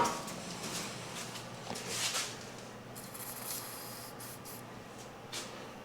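PTFE lubricant sprayed from an aerosol can onto the slide mechanisms of a camper, heard as several short, close hissing bursts with gaps between them over a quiet room background.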